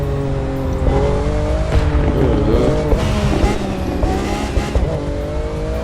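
A Lamborghini Aventador LP700-4 V12 roars in the racing game The Crew 2, its engine note rising and falling through shifts with brief tire squeals, loud and continuous.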